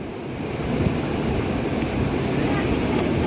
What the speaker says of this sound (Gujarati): દરિયામાં ભરતી એની જબરજસ્ત